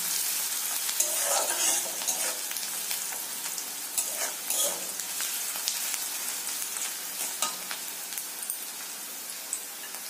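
Sugar fries and sizzles in hot oil in a pan while a prawn curry is being cooked, giving a soft, steady crackling hiss with occasional stirring scrapes and no voices.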